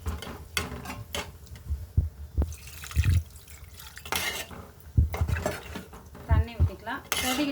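Water poured into a cooking pan of chili-powder masala for a Tamil kitchen curry, with clinks of a metal pan and utensils, brief stirring scrapes and a splashy pour in the middle, close and moderately loud.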